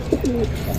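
Racing pigeons in a loft giving a couple of soft, close coos over a low background rumble.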